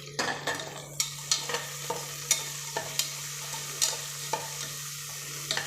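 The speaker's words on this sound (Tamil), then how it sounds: "நம்ம இந்த டைமில் இந்த காஞ்ச மிளகா, பச்சை மிளகா, கீரி வச்சுக்கிற பச்சை மிளகா, பூண்டு பல், கருவேப்பிலையை போட்டுடலாம்." Dried and green chillies, garlic cloves and curry leaves fry in a pan for a Coimbatore-style rice and dal dish, a steady close sizzle broken by regular scraping stirs of a spoon, with no talking.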